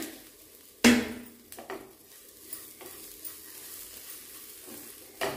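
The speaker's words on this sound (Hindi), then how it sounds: "और इसमें मैं मटर ऐड कर देती हूँ, मिक्स कर दें।" Peas are stirred into a spice mix frying in a pan, with a sharp clank of the spoon followed by scattered scraping strokes over a low, steady sizzle. The sounds are close and no one speaks.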